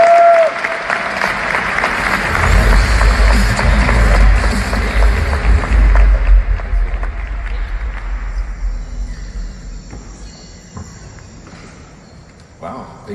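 Conference audience applauding to welcome the founder and CEO of Binder to the OnBrand stage, a broad, steady wash of clapping that swells, then thins and fades toward the end, with a few voices mixed in.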